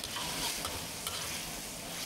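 Prawns and egg sizzle and crackle steadily in a hot pan while being stirred, a dense, continuous frying hiss with small pops throughout.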